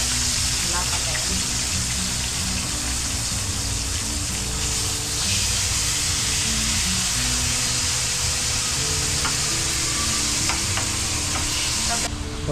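Pork steak sizzling and frying in a pan, a steady loud hiss with occasional stirring scrapes, continuous throughout with faint background voices.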